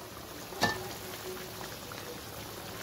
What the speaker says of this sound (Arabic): غليت معانا اهي